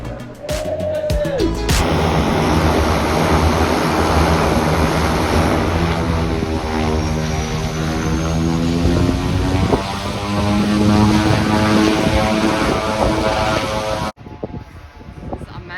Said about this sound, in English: Taking off for their skydive.